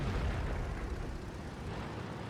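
Tank gunfire striking the player's tank in World of Tanks, a loud, heavy rumbling blast that fills the whole moment with dense low booming and a sustained roar.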